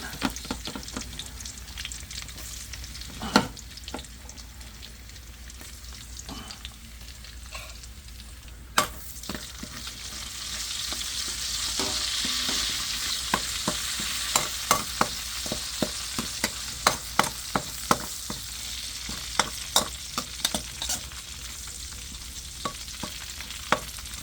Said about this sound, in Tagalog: manggisata ng bawang yan